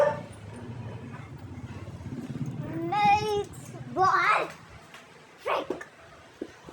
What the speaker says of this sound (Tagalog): sorry guys if maingay mga aso namin